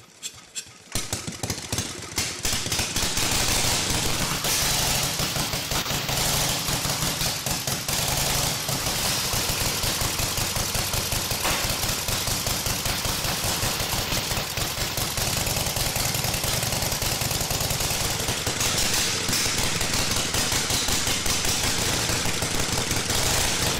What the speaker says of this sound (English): Decompress the engine, give it about 2 pedals. This thing ought to roar to life.